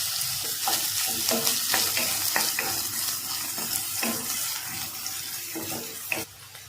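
Chopped onions sizzle steadily in hot oil, with the scrape and clatter of stirring running through the frying.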